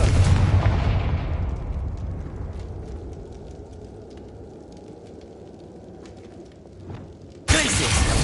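A Confringo explosion spell cast in Hogwarts Legacy bursts loudly and then decays into a long crackling, fiery rumble that fades over several seconds before another loud blast cuts in at the end.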